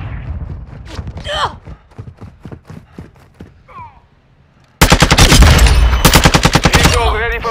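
Video game gunfire: after stretches of voices, a loud burst of rapid automatic fire breaks in and rattles on in dense back-to-back volleys, with people still talking beneath it.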